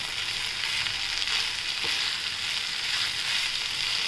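Corn rice sautéing in a pan produces a continuous, even sizzle up close, with a faint stir or scrape in the middle and no one talking.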